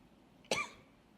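A single short cough, fairly close, against a quiet background.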